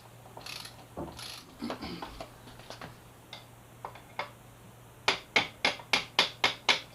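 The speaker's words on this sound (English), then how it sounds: "Just gonna give a little tap from the other side of the bike" A hammer taps the front axle of a Yamaha FZ6R motorcycle out from the far side, scattered light clinks and shuffling at first, then a quick, evenly spaced run of eight sharp metallic taps, close and clear.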